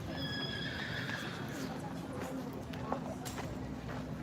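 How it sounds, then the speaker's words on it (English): A horse at a horse show neighs and whinnies over the murmur of people talking, with faint hoof clip-clops in a busy indoor facility; the sound is moderately distant and mixed under the crowd. "that horse is being shown right now."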